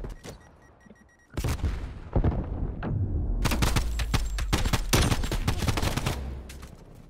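Dense bursts of automatic gunfire in a Call of Duty: Black Ops Cold War competitive match, sharp rapid shots cracking in clusters after a quieter start, loud and close, with thumps mixed in.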